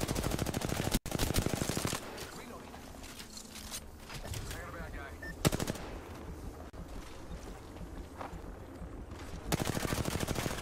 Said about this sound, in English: Doesn't even know what he's shooting at, just shooting.